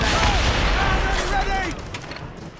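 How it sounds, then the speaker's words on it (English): Ship cannons fire in a naval battle in the video game Assassin's Creed Rogue, a loud rumbling barrage of booms filling the opening seconds and fading toward the end, with shouted voices over it. "Captain, put a shot through that! Fire! Ready! Fire!"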